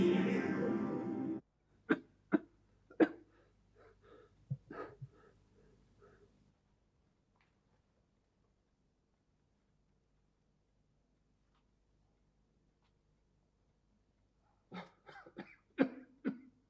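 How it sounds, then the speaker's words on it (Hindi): A man coughs in short, harsh fits at close range, with a cluster of sharp coughs early on and another burst near the end, separated by a long quiet stretch. "अब खांसते ही रहोगे"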